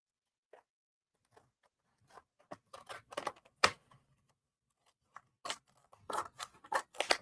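Scissors snip material for a custom wreath sign, starting with isolated clicks and building to quick bursts of close, crisp cuts.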